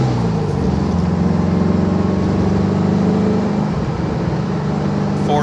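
A 1957 Beck Speedster Porsche replica pulls away and climbs through its gears, the engine droning loud and steady with a rising, strained tone as it shifts toward third.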